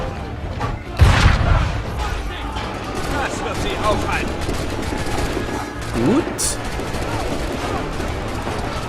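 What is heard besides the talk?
cannon fire in the video game Assassin's Creed 3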